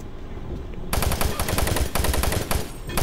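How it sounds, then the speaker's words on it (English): A basic machine gun fires in Doom 3: Resurrection of Evil, a burst of rapid, loud automatic shots that starts abruptly after a quiet second and hammers on continuously to the end. "I'll just use the basic witch machine gun for you dudes"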